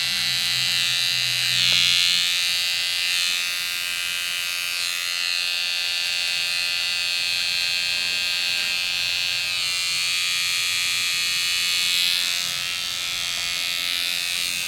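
An electric hair clipper hums steadily and close while pre-aligning the edge of a beard during a barbershop beard shaping, the buzz rising and dipping slightly as it moves, with no talk.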